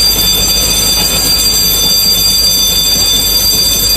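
A passenger train with tank cars and double-decker wagons rolls loudly past a level crossing, a continuous close roar of wheels and rail with high metallic squeal throughout.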